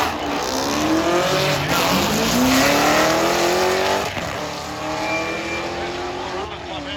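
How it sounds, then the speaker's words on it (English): Corvette at a drag race, engine roaring loud and continuous for several seconds with a rising pitch as it launches, tires squealing, other voices faint under the noise. "All right, check it out, Corvette."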